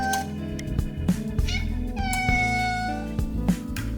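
Several cats meowing insistently at the sound of a can being opened at home, a string of close, loud, rising and falling meows overlapping each other.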